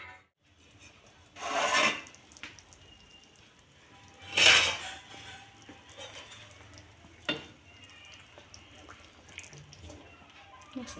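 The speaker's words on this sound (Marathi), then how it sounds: "झाकून ठेवते." A lid goes onto a pan of spicy jackfruit curry, with two broad scraping clatters a few seconds apart and a sharp small knock later, over a quiet low kitchen background.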